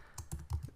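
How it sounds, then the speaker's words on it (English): Keys on a computer keyboard are typed in a short burst of four close, soft keystrokes at an even pace. "I'm just going to type out some words"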